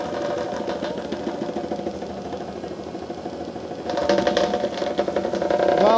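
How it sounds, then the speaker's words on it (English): Bobcat T86 compact track loader running a Coneteks grinder attachment, grinding several small trees at once: a loud, rattling engine drone with chopping texture that rises in intensity partway through. "So we'll grind multiple small trees at the same time."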